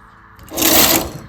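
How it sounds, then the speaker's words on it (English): A knitting machine carriage pushed across a single row of needles, a loud whirring, clattering sweep of about a second that swells and fades, with no talk. "push your needles forward and knit"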